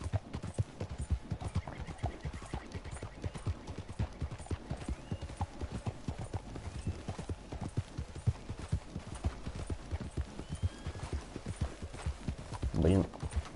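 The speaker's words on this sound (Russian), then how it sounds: "Это что за белая коняшка?" Horse hooves clip-clop in a steady rhythm while riding in the video game Red Dead Redemption 2, ending with a loud whinny near the close, with quiet speech faintly underneath.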